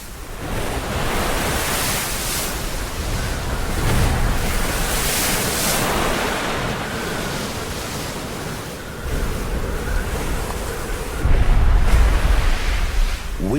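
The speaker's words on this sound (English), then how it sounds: "Winter storms rage, smashing against the cliffs of a lonely, rocky island." Winter storm waves crash against the cliffs of a lonely rocky island in the North Sea, a continuous roar of surf and wind that swells louder around a few surges, with no voices.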